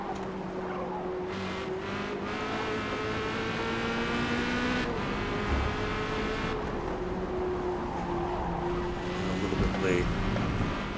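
Corvette C8.R race car at Le Mans in Forza Motorsport, engine droning loud and close with shifting pitch as it slides through a chicane, faint tyre squeal mixed in, and someone talking over it.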